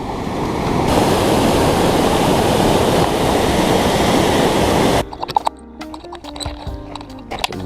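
Water rushes loudly and steadily along the Camino de Santiago in a broad roar for about five seconds, then cuts to quieter scattered clatter and knocks.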